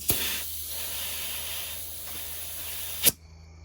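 Air compressor hissing steadily as it inflates a mini bike tire, a continuous close airy rush broken by a sharp louder burst near the end before it cuts off.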